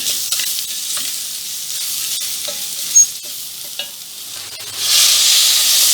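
Spices such as black pepper and turmeric being stirred in a pot on the stove just before water is added, a steady soft scraping with a gentle sizzle and a brief louder hiss near the end.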